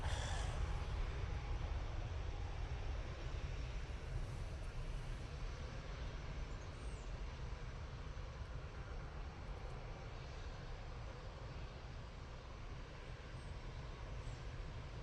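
An EasyJet airliner at Manchester Airport produces a steady, broad engine roar that fills the whole stretch, a fairly distant, even rumble and whine without talking.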